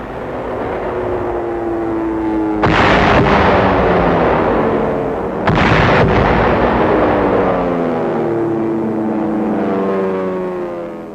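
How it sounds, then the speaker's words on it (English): B-25 bombers at low level drop bombs that burst against the walls of a fort, giving two heavy booming blasts a few seconds apart over a steady engine drone. "Coming in at low level, the B-25s blast holes in the walls"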